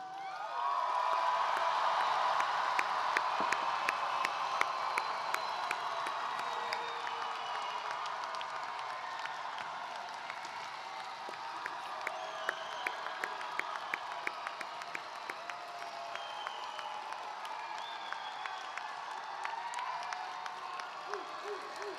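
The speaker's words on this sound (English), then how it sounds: "please join me in a round of applause as I present to you the 2026 graduating class of Edmonds" A graduation audience at the Edmonds College commencement applauds the graduating class, with steady sustained clapping from a large crowd and scattered whoops, loud and continuous throughout.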